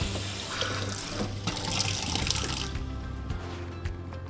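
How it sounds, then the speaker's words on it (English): A dishwasher filter is rinsed under a running tap, giving a steady, close splash of water that shifts in tone as the part is moved through the stream. "Remove the filter compartment and rinse it under running water."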